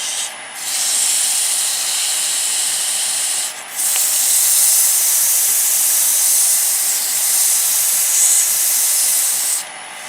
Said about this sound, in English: all you're doing with the sandpaper is just taking off any small tool marks that you might have